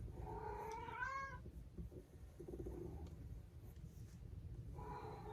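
A cat meows for attention indoors, two short rising meows separated by a quiet pause, fairly faint against a low background hum.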